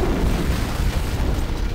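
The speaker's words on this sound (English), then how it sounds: "I'd guess an antimatter charge." A deep, rumbling antimatter charge explosion aboard a ship in a Halo video game, filling the whole clip as a loud, sustained low boom with no voices.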